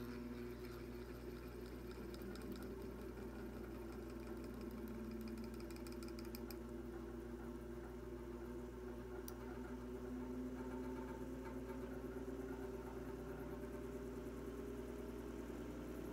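A 16-inch Western Electric tank fan, Hawthorn badged, runs at its slowest speed with a low steady motor hum and faint mechanical whir, quiet and continuous throughout.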